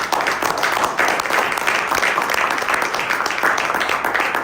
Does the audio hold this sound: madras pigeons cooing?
no